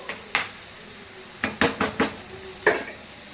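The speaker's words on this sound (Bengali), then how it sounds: "ছোটো করে পেঁয়াজ কুচিটা দিয়ে দেবো, দিয়ে ভালো করে মিলিয়ে" Spoon scraping and clinking against a pan while chopped onion is stirred into rohu fish kalia, a run of sharp metallic knocks in quick succession over a faint sizzle.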